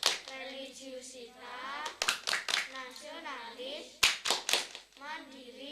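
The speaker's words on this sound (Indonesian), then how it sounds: "Tepuk PPK" Children chant and clap a rhythmic classroom clap routine, Tepuk PPK, at a home lesson. Bursts of quick claps fall between sung and spoken words, close by.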